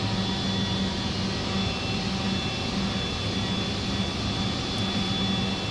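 A Mazak Variaxis C-600 CNC machine roughing a pocket with a half-inch end mill at 11,500 RPM, giving a steady, loud, unbroken roar of cutting and spindle noise.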